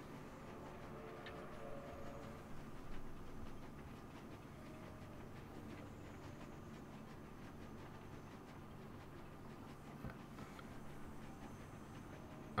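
Quiet, steady rumble of a moving train with faint rhythmic clatter from the wheels, heard from inside at low level, continuous with no talking.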